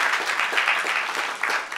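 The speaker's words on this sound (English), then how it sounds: "let's give them another round of applause" An audience claps warmly and continuously for panelists at a Black History Month tribute event at Baystate Health, with a dense, even patter of many hands.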